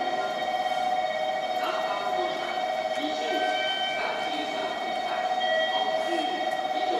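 A train pulls into a platform at Hakata station, its steady rumble and rail noise carrying under a continuous tonal hum and platform ambience, with no talk over it.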